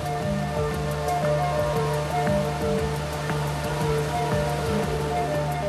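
Wastewater in a sewage treatment basin, vigorously stirred while air is blown in, churns with a constant rushing, bubbling wash over a steady mechanical hum.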